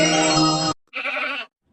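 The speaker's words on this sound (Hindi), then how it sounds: "अरे, यह तो बकरी के चिल्लाने की आवाज है" A goat bleats twice, loud and close: a long wavering cry, a brief pause, then a shorter second bleat.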